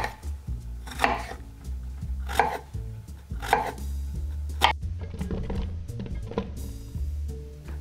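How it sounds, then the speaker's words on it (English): A knife cuts strawberries into quarters on a board, with several crisp chopping strokes at irregular intervals, close and clear, no talk. "grab two strawberries, and we're going to cut it into quarters"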